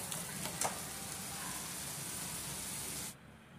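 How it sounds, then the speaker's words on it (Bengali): Tomato-paste masala for paneer tikka masala, salted, sautés in a pan with a steady broadband sizzle and a brief brighter crackle near the start, then cuts off abruptly toward the end. "মশলাটাকে আমি ভালো করে কষিয়ে নেব।"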